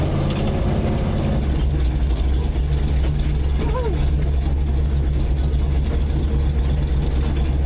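A 600HP Ford 460 big-block V8 in an old Ford F-150 rumbles steadily with a deep, throaty exhaust idle, loud and close, with faint mechanical clatter.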